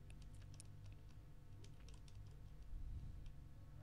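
Keys tap on a computer keyboard while text is deleted in a word processor, a quick run of soft close clicks over a low steady hum with no talking.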